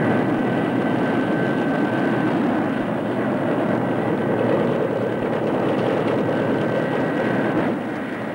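An A-4 Skyhawk light attack jet roars in a continuous, loud, even drone throughout, with no speech.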